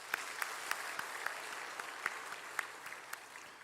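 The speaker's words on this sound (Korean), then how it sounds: "박수 한번 합시다." A church congregation at a Sunday worship service claps together, a soft, fairly distant patter of applause with a few sharper claps standing out.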